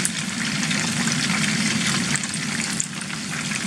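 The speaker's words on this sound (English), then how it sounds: "this is deep enough in the oil anyway that it will cook all the way through" Battered fish deep frying in hot oil for homemade fish and chips, a dense continuous bubbling sizzle that stays loud and close throughout with a slight dip near the end, no talking.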